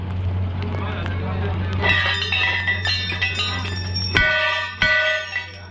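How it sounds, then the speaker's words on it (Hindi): Temple bells ring at Kamakhya temple in Guwahati: metallic strikes and clinks, with sharp loud hits near the end, over a steady low hum and background crowd voices. "चलिए पहले एक बार घंटा बजाते हैं"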